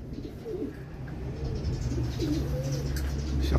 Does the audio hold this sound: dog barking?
no